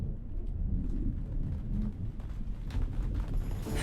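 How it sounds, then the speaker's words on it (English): Steady rain with low rolling thunder, a dense continuous rumble that stays fairly even throughout, with no voices. "Then it began to rain."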